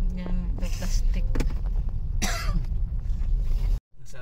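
A woman coughs and clears her throat a few times in short harsh bursts, close by, along a seaside boulevard in Dumaguete with background street noise and some talk around her.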